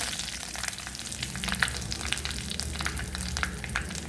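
Crackling, spitting sizzle of curry leaves dropped into hot oil, steady and close, with sharp pops scattered throughout.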